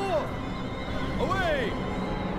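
Horses whinnying in the Battle for Middle-Earth strategy game, two rising-and-falling neighs over steady battle noise and music, with someone talking throughout.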